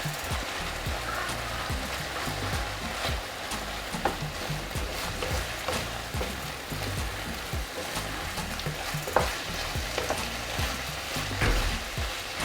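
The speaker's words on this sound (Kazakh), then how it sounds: "томат пастасын кішкене қуырып" Tomato paste fries quietly in a pan for a potato casserole, giving a soft, steady sizzle with small crackling pops and occasional stirring, with no voices.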